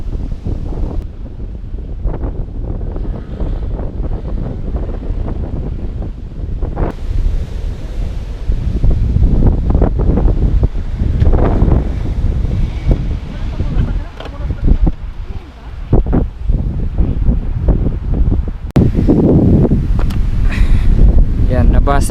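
Strong coastal wind buffeting a motorbike, roaring gusts battering the microphone in heavy surges, with surf-like rushes and a person speaking over the noise.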